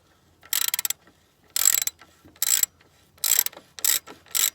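A hand ratchet backs out 16 mm bolts on a Mini Cooper S R56 during a torque arm bushing job: six close, crisp bursts of rapid clicking separated by short pauses, with no talking.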